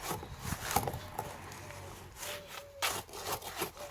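Concrete is mixed by hand without a mixer, with a tool scraping and rasping through the gritty mix in uneven, close strokes.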